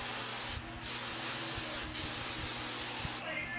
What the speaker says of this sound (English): I'm just spraying some of this thickening spray in it just to add a little more texture